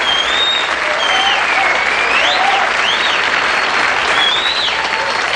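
A 1984 Star Search studio audience applauds loudly and steadily throughout, a dense, even wash of clapping with a few cheers and whistles rising over it.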